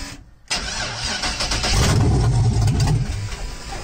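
LS-swapped Volkswagen Beetle engine cranking on the original key after a short silence, a loud, close churning starter whir with a rough, sputtering rumble building underneath, though the engine never settles into a steady run.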